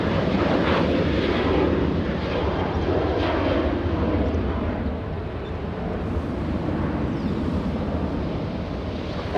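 A jet airliner takes off at LAX, a loud, broad engine roar heard from a distance outdoors over steady wind rumble on the microphone, fading slightly midway.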